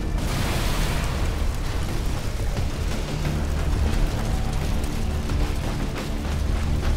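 Fire erupts in the death pits in Dead Island 2, a loud, continuous roaring whoosh of flames with booming bursts that holds steady throughout.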